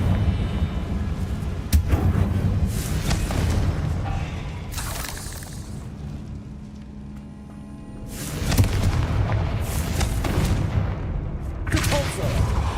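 Fire spells explode in repeated blasts during Hogwarts Legacy combat, with loud booming bursts near the start and again after a quieter stretch in the middle, over a dense rumbling game soundscape.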